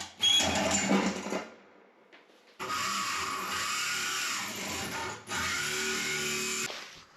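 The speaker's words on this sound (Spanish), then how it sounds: "lo que estoy haciendo ahora mismo es con el taladro ir agujerando poco a poco" Electric drill boring holes through a camper van sink cabinet, a loud steady whine in two long sustained bursts separated by a brief pause, with a quieter grinding start, and no talking.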